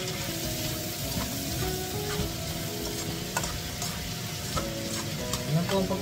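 Pancit noodles being stirred and tossed in a hot pan, with a steady crackling sizzle of frying throughout and scraping stirs close by, no talking.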